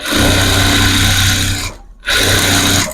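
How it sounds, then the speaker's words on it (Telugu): A sewing machine stitches a saree petticoat, a loud, steady mechanical whir that runs close up, breaks off briefly in a short pause, then starts again at the same even pace. "ఇక్కడ కొంచెం మిషన్ అది పక్కగా జరిగింది అనమాట కుట్టు చూస్తున్నారు కదా"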